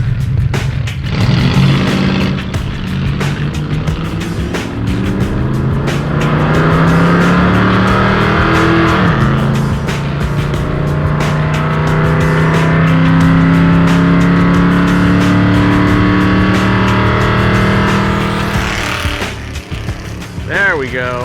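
Roadkill drag car engine revving hard through a drag strip pass, a loud sustained roar with rising and shifting pitch that holds for about twenty seconds before easing off, voices faintly mixed in.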